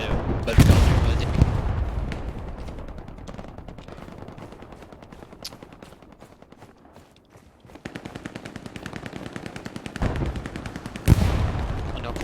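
Gunfire in a competitive trench-warfare video game match, with loud bursts of rapid automatic shots and sharp single cracks that come in waves over a constant battle din, while a voice is faintly heard in between.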